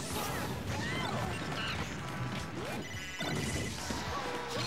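A Super Smash Bros. get-up attack hit sound lands amid dense competitive doubles match audio, with crashes and whacks layered over busy game effects and crowd noise.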